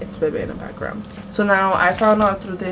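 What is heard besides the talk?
No everyday noises stand out.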